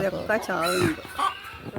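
Several varieties of chickens cluck in quick bursts, loud and close, with an overlapping voice or bark-like call in the brief span.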